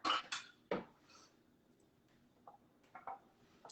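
A spoon clinks and scrapes against a metal pot while tiny acini de pepe pastina is stirred, with several sharp knocks early on and lighter taps later, otherwise quiet.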